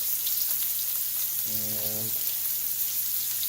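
A steak sears in a pan over very high heat, giving a steady, close frying sizzle throughout, with a brief tonal hum or scrape partway through.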